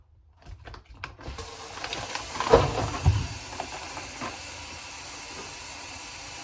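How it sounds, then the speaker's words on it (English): Water running steadily from a kitchen sink tap while shrimp are rinsed for gumbo, a continuous close hiss with a few brief clatters and splashes early on and no talk. "We're going to rinse them off and take the tails off."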